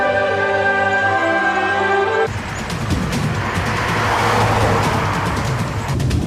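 A car driving along a road, first a steady engine drone with a mechanical whine, then switching abruptly to a louder, rougher rush of tyres and wind as the vehicle keeps moving.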